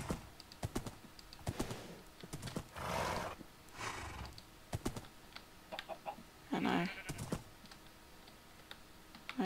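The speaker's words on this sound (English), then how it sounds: "I'm just gonna quickly try and get a horse." A horse in a Minecraft modpack game whinnies and snorts in several short bursts, with clip-clop hooves and clicky keyboard typing scattered throughout, fairly close and no talking.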